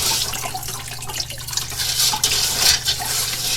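Water runs and splashes as soil is washed through a sieve for a sieve analysis test, a steady close trickle and spatter with small drips and stirring sounds throughout.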